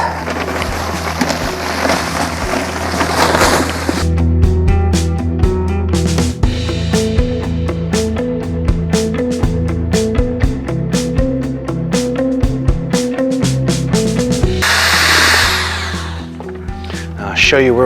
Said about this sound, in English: Now we mix up some mortar.